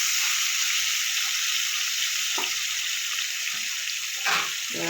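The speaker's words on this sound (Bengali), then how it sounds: "টমেটোটাও গলে যাবে, তাড়াতাড়ি একটু ভাজা হয়ে যাবে, নরম হয়ে যাবে।" Tomatoes fry with salt in a pan for egg curry, giving a steady bright sizzle throughout, with a few scraping stirs near the end and no talking.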